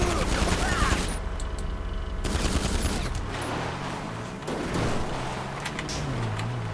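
Gunfire from the Lemonade Man video game erupts in loud bursts of rapid shots, broken by short pauses, with harsh noisy game effects continuing in between.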